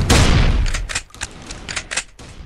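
Shotgun blasts in the mobile shooter Gun Strike, one loud booming shot followed by a quick string of sharper, fainter shots and clicks over about two seconds.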